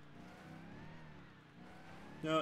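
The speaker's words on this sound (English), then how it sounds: "No, it's a lifted off-road Dodge Hellcat." Lifted off-road Dodge Hellcat engine in GTA V, a steady droning hum that holds at a moderate level with small rises and dips, then a brief sharper burst at the very end.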